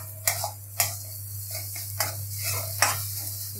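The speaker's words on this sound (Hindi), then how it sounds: "और थोड़ा सा फ्राई कर लेंगे।" A spoon scrapes and stirs a poppy seed mixture as it fries in a pan, several distinct knocking strokes over a low steady sizzle and hum, close and moderately loud.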